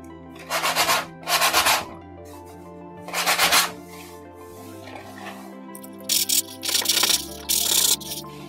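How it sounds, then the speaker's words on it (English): Coarse 60 grit sandpaper rubbed over a canvas painted with acrylic, repeated bursts of harsh scratchy strokes in uneven groups separated by pauses, close up over a faint background music bed. "So I'm just going to use this sandpaper to sand off any rough points or any high points on the painting."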